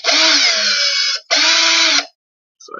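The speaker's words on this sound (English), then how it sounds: "I am just going to drill through some plastic" Power drill boring through plastic, a loud steady high-pitched whine in two bursts of about a second each, separated by a short pause, with a brief faint noise at the end.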